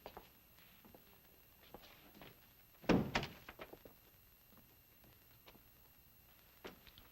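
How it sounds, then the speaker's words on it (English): A door shut in an office closes with a single solid thud midway through, followed by a few light knocks, while soft footsteps and rustling sit faintly around it and no one speaks. "Shut the door."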